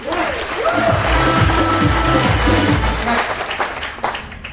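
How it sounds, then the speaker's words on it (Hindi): A crowd at a Renatus Wellness training session in Ghatkopar West, Mumbai, breaks into loud, sustained applause with cheering, over a low, droning musical backing. "मैं चाहूंगा फिर से तालियां मार दीजिए।"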